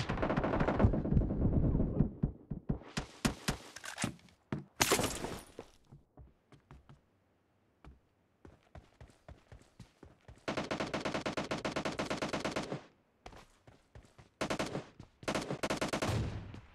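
Gunfire in PUBG Mobile: sharp single shots and bursts, then sustained rapid automatic fire, loud and close with brief quiet gaps between exchanges.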